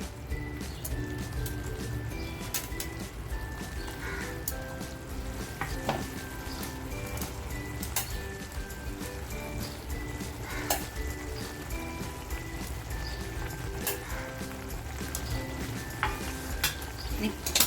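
Eggplants in masala sizzling and frying in a pan, a steady crackling hiss with occasional sharper pops and faint utensil clinks, close and fairly quiet.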